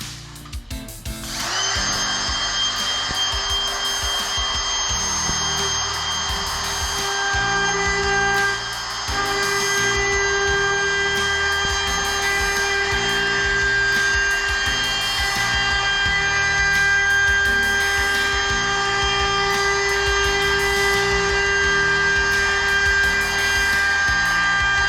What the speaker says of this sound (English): I have this router all set up